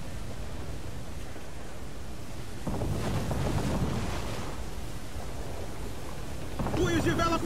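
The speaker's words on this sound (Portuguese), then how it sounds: "olha a onda!" Ocean waves and storm surf in Assassin's Creed IV Black Flag wash and roar steadily at sea, swelling louder partway through, with wind noise and an unsteady crashing surge near the end.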